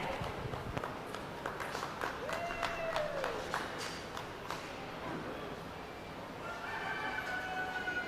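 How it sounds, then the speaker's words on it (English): Applause rings out at a youth livestock show for breeding and market goat exhibitors, scattered moderate clapping in a noisy arena with footsteps and a rooster crowing faintly in the background. "Please join me in a round of applause to all of our breeding and market goat exhibitors"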